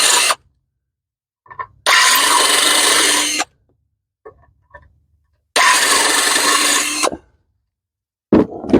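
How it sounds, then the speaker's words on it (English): A power drill with a 1/4 inch bit bores out mounting holes for an SE Sport 300 hydrofoil, two long loud whirring bursts of about two seconds each, separated by quiet gaps with small clicks and handling noises. "Drill each one out a little bit."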